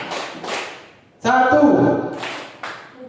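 A group of students at a school claps together in unison, sharp bursts of claps at the start and end with a short spoken instruction between them.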